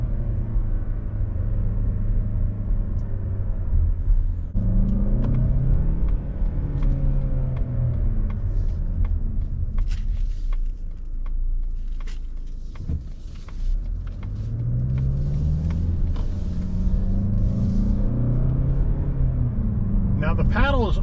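A 2025 Mazda CX-30 Premium Plus pulls hard through its 6-speed automatic under paddle shifts, the engine note climbing in several rising sweeps with quick drops at each shift, loud and close inside the cabin, with talk over it.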